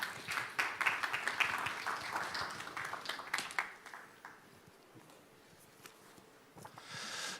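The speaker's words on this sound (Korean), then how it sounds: "박수로 환영하면서 모시도록 하겠습니다" A church seminar audience claps to welcome Pastor Cho Kyung-ho as first lecturer; a modest round of clapping, fairly quiet, tapers off after about four seconds into near stillness with faint room noise.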